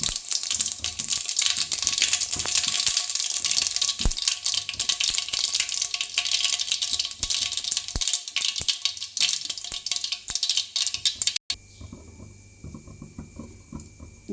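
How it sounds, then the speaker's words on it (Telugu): Cumin and mustard seeds fry in hot oil, a bright, continuous sizzle peppered with crackles and pops that cuts off sharply near the end, leaving a quieter hiss. "జీలకర్ర, ఆవాలు మంచిగా వేగిపోయాయి కదా"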